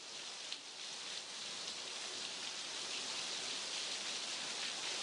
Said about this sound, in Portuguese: está chovendo.